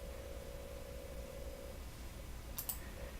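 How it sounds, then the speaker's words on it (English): Two quick, faint computer mouse clicks land close together near the end, over a steady background hiss and low hum, with no talking. "you can just click right here on the pencil for feedback window"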